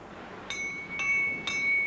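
An old hand-forged axe is struck three times at even intervals, each hit leaving a clear, bell-like metallic ring that hangs briefly before fading. The ringing is light and close, with no speech over it.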